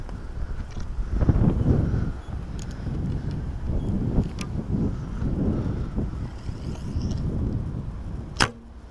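Strong wind on a cold, snowy day at an outdoor archery range roars and buffets the microphone in continuous surging gusts, with a couple of faint sharp clicks near the end.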